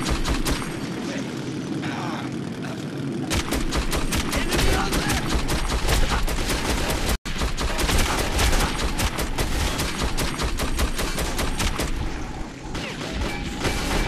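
Heavy, continuous automatic gunfire from a video game weapon in Metro 2033, the dense rattling bursts loud and sustained for most of the stretch, broken once by a split-second gap before the shooting resumes.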